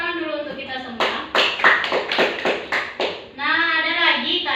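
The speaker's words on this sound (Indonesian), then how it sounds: "Tepuk tangan dulu untuk kita semua." A classroom of students claps hands together in a short, loosely rhythmic burst of about a dozen claps, with children's voices and a teacher speaking before and after.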